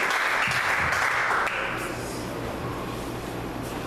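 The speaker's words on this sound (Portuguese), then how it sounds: "Você pode aplaudir o Senhor para vir nessa serva de Deus." A church congregation claps together, a loud dense burst at first that eases into softer continuous applause with a low hum underneath.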